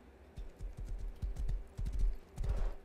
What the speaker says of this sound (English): We got to ride the horse.